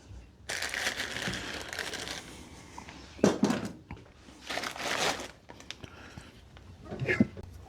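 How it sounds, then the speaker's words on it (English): An old front main seal is pried out of a Honda Acty HA4 (E07A) engine during a rebuild. Soft crunching and crinkling scrapes come in a few separate bursts, close and fairly quiet, with brief pauses between them. "Pop that seal out"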